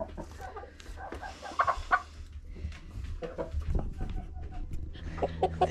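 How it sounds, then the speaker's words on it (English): Backyard chickens on an Alaskan homestead, including a feather-footed hen, cluck and squawk in short scattered bursts at close range, with a few excited outbursts partway through. "A little pause while Cody plays with our chickens"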